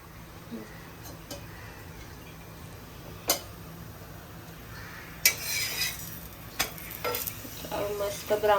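Methi thepla sizzles in oil on a griddle, a steady soft frying hiss broken by sharp clicks and scrapes of a spatula, growing busier with clattering utensil sounds in the second half.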